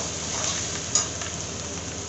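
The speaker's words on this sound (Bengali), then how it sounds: "সবজিগুলো দিয়ে আবারও 1 মিনিট মতো নাড়াচাড়া করলাম" Vegetables stir-fried with soy sauce for chow mein give a steady close sizzle and frying hiss. One brief clink of utensil against the pan stands out near the middle, and no one speaks.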